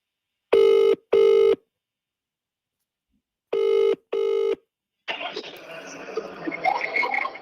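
Two pairs of phone ring bursts sound on a call, each pair of short, loud electronic tones followed by a pause, before noisy chatter and background crowd sound take over in the last seconds.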